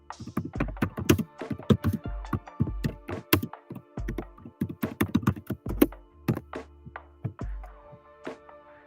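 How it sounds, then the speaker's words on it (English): Clicky taps on a computer keyboard come in quick, uneven bursts with short pauses, close and distinct in a quiet room. "I'm gonna type this here."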